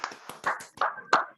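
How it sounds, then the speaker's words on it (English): Close, uneven hand claps from a small group at an online reality show finale, a handful of sharp separate claps with gaps between them. "A big round of applause for Surbhi Biyani."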